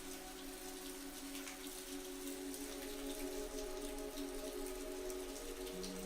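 Soft, steady rain falls on a rainy day in New York, a faint continuous patter with scattered drops over a quiet background hum, no voices.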